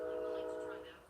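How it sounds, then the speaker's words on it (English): Passing train sounding a sustained horn blast that fades toward the end, heard at moderate distance. "The choo-choo train is going by."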